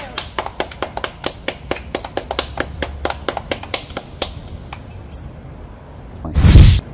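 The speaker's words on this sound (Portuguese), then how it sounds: "Mais uma salva de palmas para Jesus." A small group claps for Jesus in a steady rhythm of sharp, close claps that thins out and stops, followed by a brief loud rushing burst at the end.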